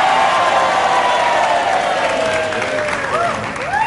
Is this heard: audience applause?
yes